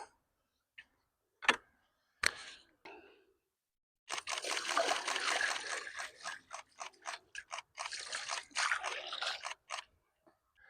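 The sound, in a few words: buckets of water poured over a caught fish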